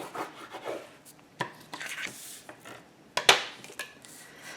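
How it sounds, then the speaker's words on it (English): Paper pressed onto a scrapbook album page with a burnishing tool gives quiet, uneven rubbing and scraping strokes, with a few sharper taps and scuffs and no talking. "Let's give that a good burnish."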